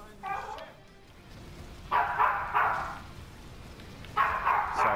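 A dog barks in the background in short bursts, three clusters of yappy barks at mid distance, over quiet room ambience.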